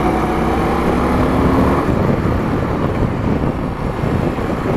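Indian Scout Bobber motorcycle pulling hard in third gear, a loud steady engine roar with wind rush that holds strong throughout, close up and with no voices over it.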